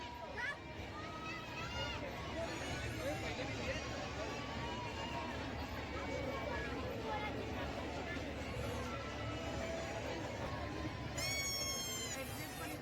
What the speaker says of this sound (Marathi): भयंकर गर्दी आहे ही